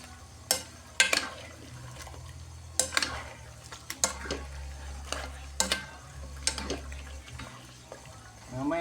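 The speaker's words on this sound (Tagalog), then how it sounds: "malapit na pong maluto ang ating adobo" Chicken adobo simmers and sizzles in a pot, with a spoon scraping and stirring in sharp, irregular clanks over a continuous low bubbling hiss.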